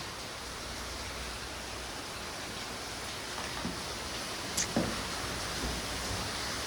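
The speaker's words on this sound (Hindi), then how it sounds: "इतनी तेज बारिश हो रही है" Heavy rain pours in a steady, dense hiss that fills the whole stretch, with a few faint drips and knocks standing out.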